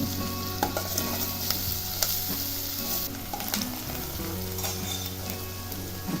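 Onions frying in a pan for a drumstick-leaf bhaji, a dense steady sizzle with faint stirring scrapes, heard close over soft background music.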